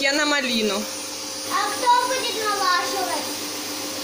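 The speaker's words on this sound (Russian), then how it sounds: "Дети пока тут пылесосят" A household vacuum cleaner runs steadily through the whole stretch while children use it, its even drone sitting under a woman's speech and a voice.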